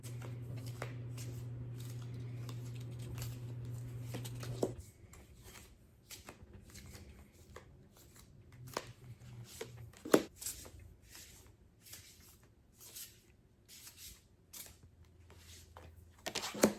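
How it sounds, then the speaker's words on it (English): Oracle cards being shuffled by hand, a soft papery riffling and rubbing that runs steadily at first, then turns into quieter, intermittent slides and taps with a few sharper clicks. "I'm going to edit out all the shuffling besides the one shuffle that I do where you see me pull the card."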